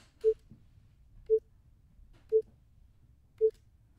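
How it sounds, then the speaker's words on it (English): Four short, soft sine-tone blips with quick 50-millisecond fades in and out, evenly spaced about a second apart over a faint low background; no voices. "Like a little blip."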